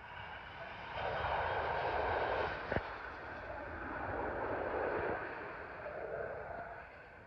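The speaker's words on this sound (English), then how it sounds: "Arriving in now is a Qatar Airways Airbus A380 from Doha to London Heathrow." A Qatar Airways Airbus A380 arrives at London Heathrow, its distant engine noise swelling and fading in soft waves, faint and without talk, with one brief click partway through.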